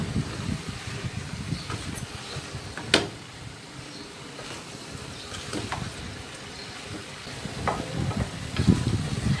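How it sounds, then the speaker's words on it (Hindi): Chicken frying in a pan over medium heat with black pepper, crushed chillies, salt and green chillies, sizzling steadily with intermittent stirring scrapes and a sharp clatter near the start, close and moderately loud without talk. "ये अच्छी तरह से मैं फ्राई कर रही हूँ"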